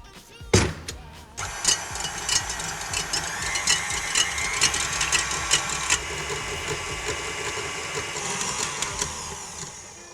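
A stand mixer whips cream for a salmon verrine starter, a loud continuous motor whir with rattling and clicking beater noise after a sharp knock at the start, running steadily without speech.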